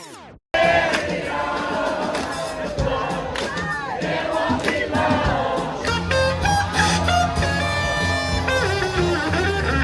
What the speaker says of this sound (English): We celebrated Mardi Gras at this big community event that they threw